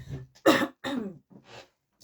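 A few harsh, breathy coughs close to the mic, separated by short pauses, with no speech around them.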